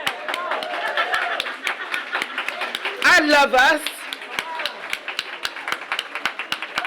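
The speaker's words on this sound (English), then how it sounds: "let's just clap" Clapping from a crowd at a memorial tribute and life celebration, a steady patter of hand claps running throughout with a louder burst of cheering in the middle, mixed with people talking and laughing.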